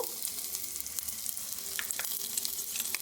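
Chopped onion, garlic and chili fry in a pan while being stirred, making a soft, close sizzle with light scraping and crackling pops over a few seconds, with no voices.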